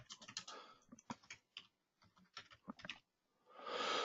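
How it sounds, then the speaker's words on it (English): Computer keyboard typing while working in Advance Steel software, a close, steady run of quick key clicks in bursts with short pauses, then a louder rustling noise at the end. "So now I can type in the altitude or the height"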